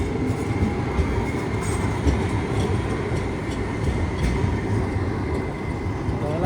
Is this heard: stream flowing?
no